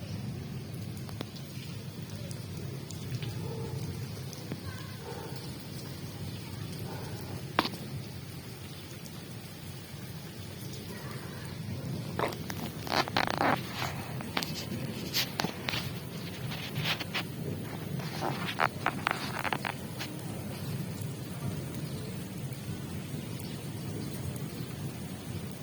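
Steady rain falling outdoors, a dense continuous hiss with scattered drip and splash clicks, a low distant thunder rumble underneath, no voices.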